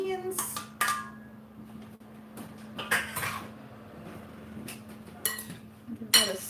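A spoon clinks and scrapes in a bowl while a summer salad with beans is stirred, producing sporadic sharp metallic taps and rattles over a low steady hum.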